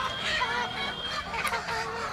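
Chickens kept alongside goats on a farm, clucking and calling in a faint, busy jumble close by, with no one talking.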